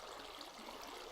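Flowing water in the Minecraft video game, a soft, steady rushing wash that stays even and faint through the short moment.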